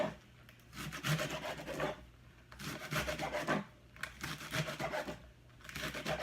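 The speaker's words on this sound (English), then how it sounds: "roll, and then you can slice them" Rolled collard greens sliced with a knife, heard as repeated rasping strokes in steady bursts of roughly a second each, separated by brief pauses, close and moderately loud without speech.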